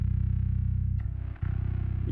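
Distorted bass guitar through an Ampeg amp model in the Aroura DSP Mammoth plugin, a steady gritty low drone with a brief dip and re-attack midway, loud and alone.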